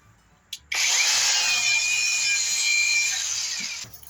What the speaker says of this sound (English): I have polishing pads, wool polishing pads, and a cordless angle grinder. And watch this.